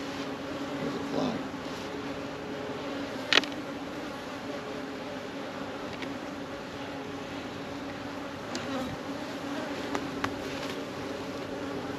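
Honeybees buzz around an open hive during an early June hive inspection, a steady, fairly close drone with no talk over it. A couple of sharp clicks or knocks stand out along the way.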